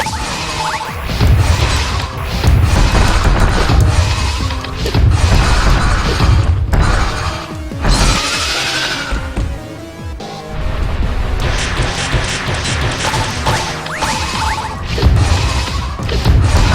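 Power bombs detonate during a boss fight in the fan-made Another Metroid 2 Remake. The explosions come as loud, sustained crashing booms with swooshing bursts that roll on almost continuously for several seconds.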